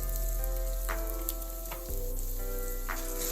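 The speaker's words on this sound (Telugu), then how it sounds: "ఒక అరకప్పు మినప్పప్పు, ఒక అరకప్పు శనగబేడలు, ఒక అరకప్పు మినప్పప్పు, 1 స్పూన్ ఆయిల్తో వేయించేసుకోవాలి." Chana dal and urad dal fry in a spoonful of oil in a kadai, a steady close sizzle with occasional scraping stirs of the spoon, no voices.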